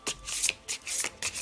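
Tarot cards drawn and handled during a zodiac reading, heard as soft papery slides and shuffles in several short bursts, close and fairly quiet, with no talking.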